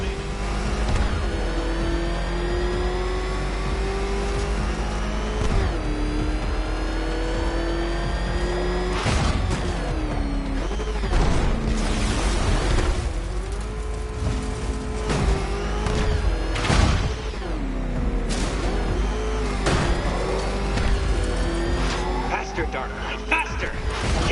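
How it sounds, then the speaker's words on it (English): Batmobile engine in the video game Batman Arkham Knight revs loudly and continuously, its pitch rising and falling with bursts of acceleration and impacts, while voices speak over it throughout. "Can that ramshackle motor handle this?"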